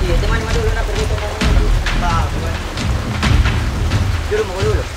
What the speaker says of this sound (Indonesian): Ih, hujannya nih.